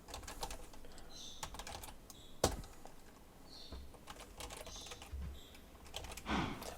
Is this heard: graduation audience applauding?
no